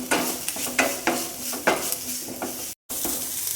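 Crushed garlic, ginger and green chili fry in a pan for pepper chicken curry, giving a steady sizzle broken by several rhythmic scrapes and stirring strokes, with a brief dropout near the end.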